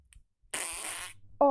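A fart-like squeaky blurt from a squeezable toy, a short raspy burst followed by a higher tonal squeak, close and loud, with no talk during it.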